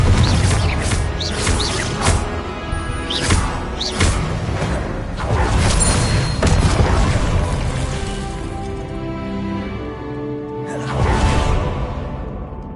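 A Confringo fire spell explodes in Hogwarts Legacy on PS5, with loud whooshing bursts and crashing impacts repeating over a dense, busy game soundscape.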